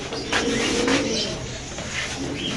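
Pigeons coo at a pigeon farm where Lahori and Spanish breeds are kept, a low soft cooing murmur running through the clip with faint chatter and voices in the background.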